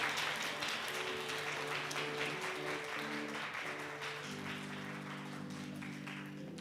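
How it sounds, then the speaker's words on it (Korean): Sustained applause from a congregation during a church retirement ceremony at a Christmas thanksgiving service, steady and dense throughout, with organ or keyboard chords playing underneath. "여러분들 박수로 격려해 주시기 바랍니다"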